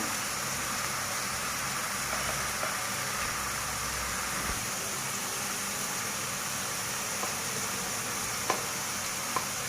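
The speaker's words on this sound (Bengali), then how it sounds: "এখন আমি আদা রসুন বাটা দিয়ে দিব।" Ginger and garlic paste frying in a hot pan for chicken masala, a steady close hiss of sizzling oil that runs unbroken, with a few faint clicks and stirs scattered through it.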